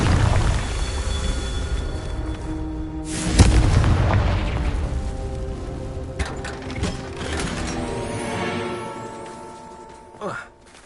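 Confringo fire spell bursting in a wizarding video game, a loud booming blast near the start followed by crackling rumble and a second smaller burst near the end, over game music.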